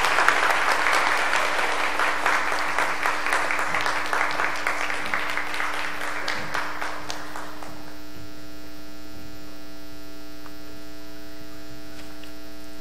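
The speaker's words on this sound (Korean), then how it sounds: "박수로 모시도록 하겠습니다." A church congregation of the Family Federation's Cheonan church applauds during a Sunday worship service, many hands clapping loudly at first, then thinning out and fading to a low steady mains hum that remains after the clapping stops.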